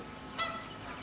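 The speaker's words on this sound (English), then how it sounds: "The birds already flying south. Wild geese or swans." A wild geese honking sound effect in a stage production of Chekhov's Three Sisters, a single short honk heard alone and moderately close.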